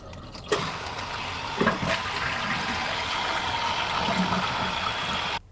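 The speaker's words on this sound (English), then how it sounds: "it's just the tank filling." A household toilet tank refilling after a flush, a steady rushing hiss of water that runs continuously at moderate loudness for several seconds, then cuts off abruptly near the end.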